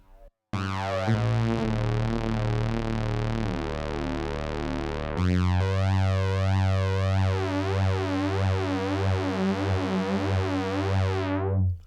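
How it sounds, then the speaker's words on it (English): Sustained Voltage Lab 2 synth notes swept by a whooshing, flanger-like comb effect, loud and continuous with a shift in pitch midway, no voices present. "If we bring the size down, we get flangy tones."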